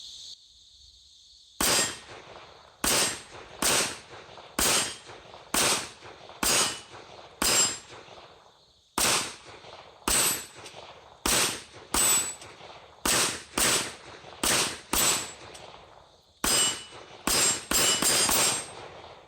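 A Kel-Tec PMR-30 pistol firing CCI Maxi-Mag hollow-point rounds at steel targets, sharp loud shots in an irregular string, each followed by a ringing metallic clang from the steel, with several quick doubles and short pauses between.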